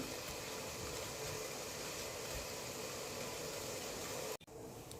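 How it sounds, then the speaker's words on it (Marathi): Water boiling in a pot on a medium gas flame while millet dumplings steam, a steady close rushing hiss and bubble that runs unbroken and then drops out sharply near the end; no voices. "पाणीला उकळी आलं"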